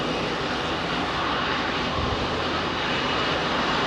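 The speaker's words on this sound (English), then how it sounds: "Looks like there's another 380 due out. Going to Boston" An Airbus A380 jet departing Heathrow runway 27R bound for Boston produces a loud, continuous engine roar, dense and unbroken across the whole stretch with no voices.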